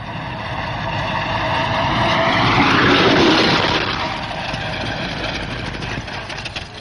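Early Mercedes racing car at the Gordon Bennett Trophy race, a rough, rattling engine roar that swells as it passes close by around the middle, then fades to a steady chugging.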